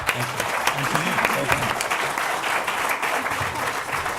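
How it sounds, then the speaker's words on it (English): Audience at an AI summit panel discussion breaks into applause, a steady wash of many hands clapping throughout, with faint voices underneath. "Please give a big round of applause to our panelists"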